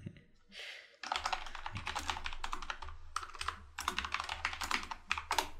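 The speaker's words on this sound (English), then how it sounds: "I'm typing, bro." Fast, close clatter of typing on a computer keyboard, bursts of keystrokes in uneven runs after a short pause, loud and alone during a Roblox game.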